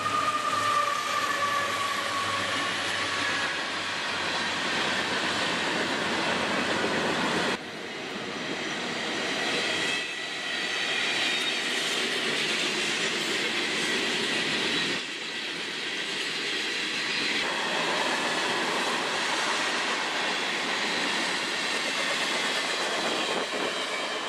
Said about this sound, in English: You can always hear and see the trains pass by as they thunder through.